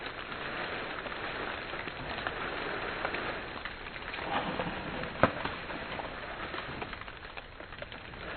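Rain falls over a burley tobacco farm, a soft continuous patter that is faint and steady for about eight seconds, with one sharper drop or knock midway and no one talking.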